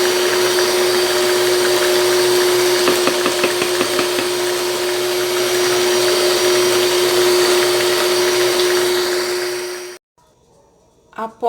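An electric stand mixer beats coconut cake batter with a steady loud whir and faint rattling for about ten seconds, then cuts off, leaving a near-silent pause and a brief clunk.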